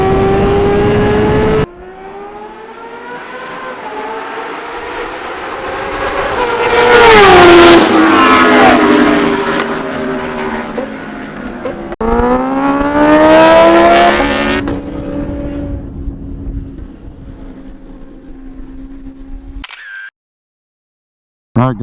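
Kawasaki Ninja H2 motorcycle engine racing on a track, revving hard through the gears with rising and falling whine, several loud acceleration surges and shifts, then cutting off abruptly near the end; no talking.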